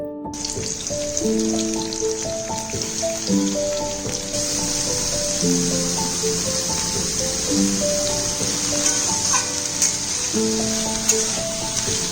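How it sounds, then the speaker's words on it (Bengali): Steady hiss and sizzle of bay leaf, whole garam masala spices, onion and tomato frying in hot oil for a mutton curry, with soft stirring underneath and a gentle musical tune playing throughout. "এবারে গরম তেলে তেজপাতা আর গোটা গরম মশলা দিয়ে হালকা নাড়িয়ে নিয়ে পেঁয়াজ টমেটো আর নুন দিয়ে অল্প লাল হওয়া অবধি ভেজে নেবো"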